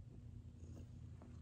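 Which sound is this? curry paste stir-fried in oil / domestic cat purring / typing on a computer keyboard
domestic cat purring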